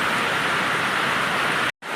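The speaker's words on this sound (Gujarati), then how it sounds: "તો જુઓ ગાઈસ તો આટલો વરસાદ ચાલુ છે" Heavy rain pours down on village fields as a loud, dense, steady hiss that fills the whole stretch, broken only by a brief cutout near the end.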